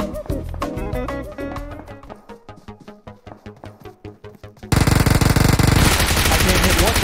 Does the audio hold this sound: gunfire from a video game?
yes